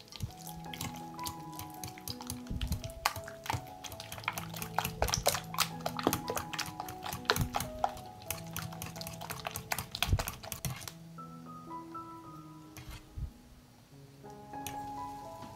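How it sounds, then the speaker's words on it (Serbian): Sour cream being mixed with other ingredients in a bowl, a series of quiet clicking and tapping utensil strikes in an irregular rhythm, close and soft, with background music tones throughout. "Dodajem 300 grama pavlake i sjedinit ću sastojke."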